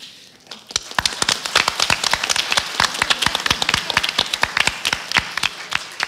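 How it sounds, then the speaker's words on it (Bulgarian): Concert audience applauding both teams, with sharp, distinct claps that start after a brief lull and build into a fast, uneven patter, close and fairly loud, with no talk. "Силни аплодисменти за гидките на двата отбора."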